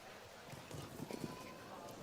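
Horse hooves thudding on the arena during a show jumping round at La Baule, faint and distant strides under a low crowd murmur and commentary.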